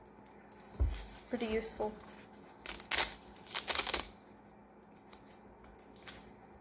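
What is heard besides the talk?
splitting sword's blades being folded up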